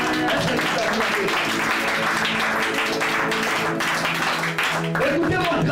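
A church congregation applauding and cheering for God, with dense sustained clapping and crowd noise throughout, loud and continuous, mixed with voices and music.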